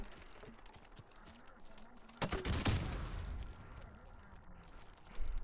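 Gunfire in the video game Call of Duty: Modern Warfare Remastered, a short burst of sharp shots midway, set against quieter game sounds with faint talking.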